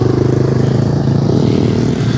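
A motorcycle with an automatic transmission on a mountain ride near Anapa, heard as a loud, steady engine drone with wind rush close to the microphone and no talking.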